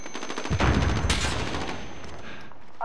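A first-person shooter video game fires a rapid burst of close, loud gunfire, with a grenade blast mixed in. The shots fade into a dense trailing rumble.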